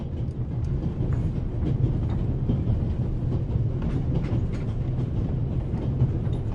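A train rolls along rails in the video game Raven Remastered, giving a steady, unbroken rumble with faint rhythmic clatter throughout and no voices.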